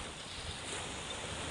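Steady seashore surf at Amaya, Cavite, a soft continuous wash of waves mixed with wind buffeting the microphone, with no talking.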